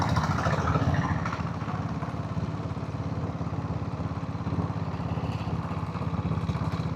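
A diesel Royal Enfield Bullet motorcycle rolls downhill through the Jawadhu Hills, its engine giving a steady, close, low thumping chug that holds even throughout, with no voices.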